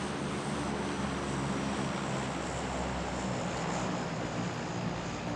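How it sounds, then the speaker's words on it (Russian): Steady broadband engine drone of an airplane in the battle royale video game PUBG, a continuous roar holding even in loudness throughout, with no voices over it. "Самолет."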